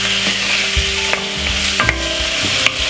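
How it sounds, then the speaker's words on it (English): Vegetables fry in a pan with a loud, close sizzle while a utensil scrapes and knocks against the metal every second or so as they are stirred. "Give it a stir for about 5 to 6 minutes."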